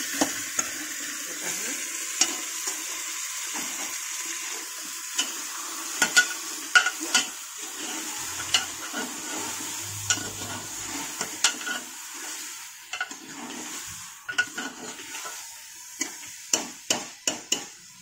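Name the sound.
mutton being sautéed and stirred in a pan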